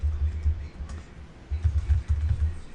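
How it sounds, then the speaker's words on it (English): Typing on a computer keyboard, soft rapid key clicks in uneven bursts with a brief pause in the middle, close and fairly quiet with no talking. "I'm going to type in some words"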